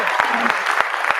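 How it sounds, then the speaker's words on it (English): An audience at a democracy and human rights festival claps in a short, dense burst of applause mixed with crowd noise and a voice. "Round of applause to begin my coffee tafadhali."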